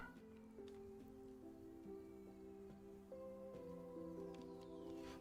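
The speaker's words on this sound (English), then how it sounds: "My cat's going mad." An indoor cat meows in a quiet room, a few soft drawn-out calls over faint steady background hum, fairly distant and low in level.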